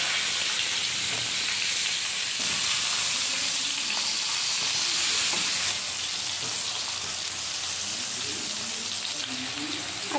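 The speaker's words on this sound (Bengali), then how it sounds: "এই তেলেই বেগুনগুলো ভেজে নিচ্ছি" Steady sizzling of eggplant frying in oil, continuous broadband crackle throughout with occasional faint clinks, no talking.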